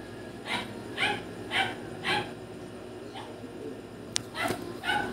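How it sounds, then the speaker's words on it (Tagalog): A dog gives a rhythmic series of short yips and whimpering barks, about eight in a row, moderately near against a noisy indoor background. "Ingay ng aso."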